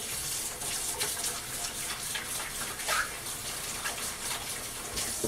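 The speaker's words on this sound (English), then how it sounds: "Wash our hands." Hands being washed under a running kitchen tap after grating cauliflower, a steady close rush of water with small splashy changes as the hands move, no talking.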